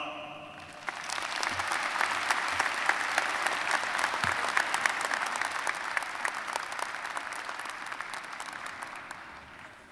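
Sustained applause from a large audience at a fall graduate college commencement ceremony, honoring the commencement speaker; steady dense clapping fills the hall for nearly ten seconds after a brief quieter start.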